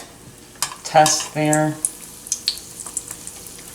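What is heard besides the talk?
dough frying and sizzling in hot oil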